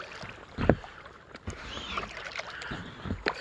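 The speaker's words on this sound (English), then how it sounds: "Just gonna be quiet here for a few minutes and paddle and enjoy it." Paddling an Intex Excursion Pro inflatable boat across a quiet lake, with soft paddle splashes and drips every second or so against a faint, airy background, and no talking.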